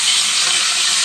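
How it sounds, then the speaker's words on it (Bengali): Potato and pointed gourd fry in hot oil left over from frying fish, giving a steady, bright sizzling hiss with no voices. "একই তেলে হচ্ছে আমি রোলার আলুটাও একটু ভাজা নিব।"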